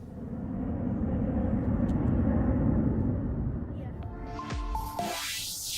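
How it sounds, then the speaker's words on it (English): Four fighter jets descend in tight formation with gear down to land, a heavy continuous roar that swells and then fades, with a rising whine near the end. "Four fighter jets descend in tight formation, gear down, preparing for synchronized landing through partly cloudy skies."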